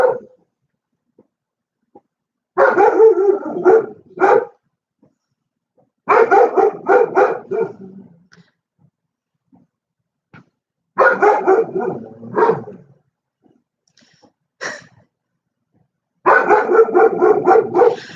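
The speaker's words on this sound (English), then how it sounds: "I have 2 German Shepherds, so they literally bark at everything." Two German Shepherds bark in repeated loud bursts of rapid barking, separated by pauses of near silence, close to the microphone with no talking.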